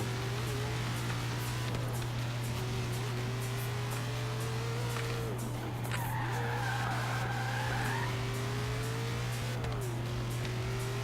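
A Mustang drifting in the racing game Forza Horizon 3: tires squeal in a long, wavering skid over a steady engine drone, with the pitch rising sharply midway through a corner.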